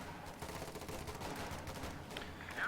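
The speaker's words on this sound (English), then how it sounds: "I hear gunfire." Faint, distant rattling gunfire in the video game Company of Heroes 2, a steady crackle of shots that continues throughout.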